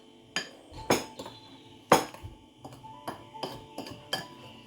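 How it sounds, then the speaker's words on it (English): Chocolate brownie batter of melted chocolate, flour and sugar being mixed in a bowl for an eggless microwave brownie, heard as about eight sharp utensil clinks against the bowl at an uneven pace, close and fairly quiet. "now we are just mixing the melted chocolate and the flour and sugar"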